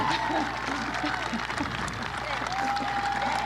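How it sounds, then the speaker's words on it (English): An audience claps steadily in a dense, continuous patter that runs the whole time at moderate volume, with faint voices underneath. "they're all clapping for someone"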